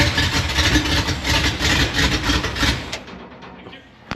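An International Loadstar truck engine cranks and churns loudly up close, its rough mechanical clatter continuing for about three seconds before it cuts off into near silence.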